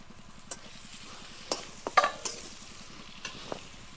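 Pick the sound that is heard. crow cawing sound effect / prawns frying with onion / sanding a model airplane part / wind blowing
prawns frying with onion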